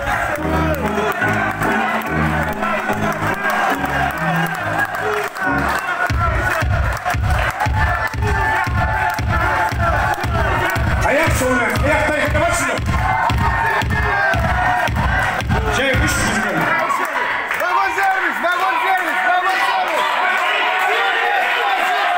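A festive crowd at a railway workers' holiday party shouts and cheers loudly and continuously, with rhythmic beats underneath for much of it, then the music drops out and the crowd noise carries on alone.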